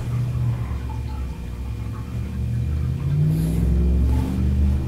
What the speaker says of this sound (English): every once in a while you get a hot rod.